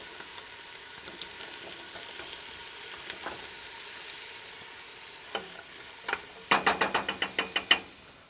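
Potatoes, carrots and tofu fry quietly in a pot with a faint, steady sizzle, then a spoon knocks against the rim in a quick run of sharp taps near the end.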